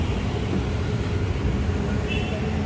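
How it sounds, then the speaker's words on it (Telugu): A passing train gives a steady low rumble and roar heard from a home balcony, continuous and fairly loud throughout, with a faint higher tone near the end. "అదిగో అది ట్రైన్"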